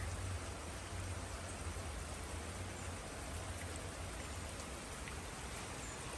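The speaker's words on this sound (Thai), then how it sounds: "มื่อนี้ก็ฝนตกอีกแล้ว" Steady rain falls throughout on a rainy day, a dense, even hiss of drops on surfaces with a low rumbling undertone, continuous and fairly close, with no voices.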